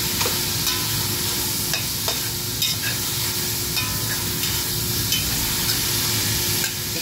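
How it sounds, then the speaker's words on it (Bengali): Bottle gourd for lauki halwa sautés in a hot pan, a steady close sizzle running throughout while a spoon scrapes and stirs in irregular strokes, with no talking. "লাউটা যতক্ষণ না কুক হয় ততক্ষণ এইভাবে ততক্ষণ সতে করে যাবেন"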